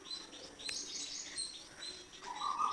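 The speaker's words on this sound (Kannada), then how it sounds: "ಪಕ್ಷಿಗಳ ಸೌಂಡೆಲ್ಲ ನೋಡ್ಬೋದು ಎಷ್ಟು ಚೆನ್ನಾಗಿ ಕೇಳಿಸ್ತಾ ಇದೆ ಅಂತ ನೋಡಿ" Birds chirp outdoors near a home garden, with faint, scattered tweets and calls over quiet background noise, and no talking.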